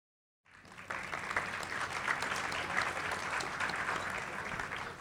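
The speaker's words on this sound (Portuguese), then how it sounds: "Não sei se deveríamos aplaudir esse tipo de..." An audience at a Brazilian internet forum panel applauds after a video, steady distant clapping that starts abruptly after a moment of silence and continues at a fairly faint level.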